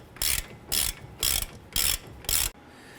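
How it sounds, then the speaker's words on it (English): A ratchet tightens the caliper bracket bolts on a 2012–2017 Toyota Camry, giving five evenly spaced bursts of rapid clicking, each about a quarter second long, with short pauses between them. "I'm going to go ahead and bottom these bolts out, the top one and the bottom one"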